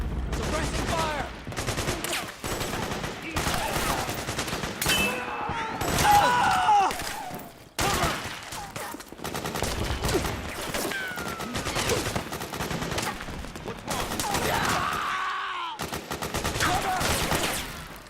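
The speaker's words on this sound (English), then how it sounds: "Suppressing fire!" Suppressing gunfire in Metal Gear Solid 4: Guns of the Patriots, with rapid bursts of automatic weapon fire rattling repeatedly and loudly, broken by brief pauses, mixed with shouted voices and battlefield effects.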